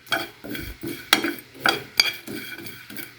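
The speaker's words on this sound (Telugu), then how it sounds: "ఇదిగోండి, ఇలాగా డ్రై రోస్ట్ చేసుకోవాలి" Whole spices dry roasting in a pan for chicken biryani, with a spoon stirring and scraping against the pan in several distinct strokes and clinks, close and alone.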